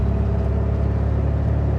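A Volkswagen Beetle engine drones steadily at close range while the car is driven, a constant low mechanical hum with no talk over it.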